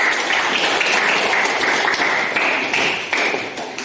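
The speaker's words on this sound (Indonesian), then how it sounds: "tepuk tangan untuk kalian" A classroom of students claps for their classmates, a moderately loud patter of many hands with slightly rhythmic pulses, easing a little toward the end.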